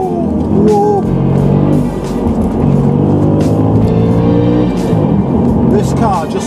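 An Audi RS4 B7 accelerating hard in second gear, with a loud steady engine drone and rising revs heard from inside the car while someone talks over it.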